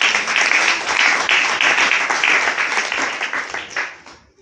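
A church congregation bursts into applause for Jesus during a sermon, a loud, dense wash of many hands clapping that holds steady and then fades quickly at the end.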